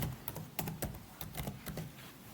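A file name is typed on a computer keyboard: a quick, irregular run of light key clicks, close and fairly quiet, with no talk.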